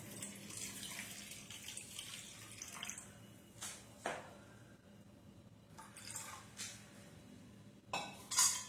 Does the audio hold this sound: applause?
no